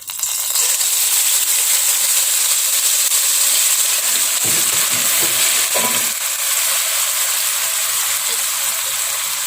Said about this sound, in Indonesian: nah ini untuk minyak sayurnya sudah panas. Lalu kita tumis bumbu yang kita haluskan tadi.